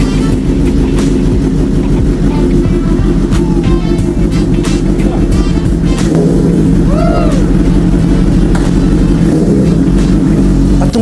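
Kawasaki ZH2 motorcycle engine idling after warming up, then pulling away, a steady close rumble with a few brief rising revs and some faint background sounds.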